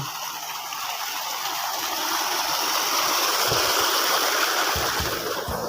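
Water gushes from a farm well into the field channels. It makes a steady, close rushing sound that stays continuous throughout, with no voices.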